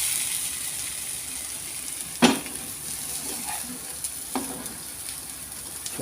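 A chicken omelette sizzles steadily in a frying pan just after being flipped, a continuous bright crackle with a couple of sharp spatula scrapes and clinks against the pan.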